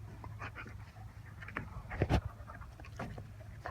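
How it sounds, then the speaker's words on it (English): An old dog pants outdoors, quick rhythmic breaths close by, with some soft rustling and a brief louder thump midway; no talk. "This is my old dog Diesel out here."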